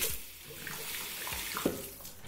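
Water is poured over eyeliner on skin for a water-resistance test, a short, close run of splashing and trickling.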